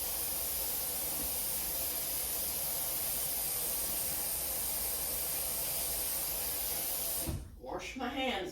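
Tap water runs while hands are washed, a steady, close rushing hiss that stops abruptly near the end before someone speaks.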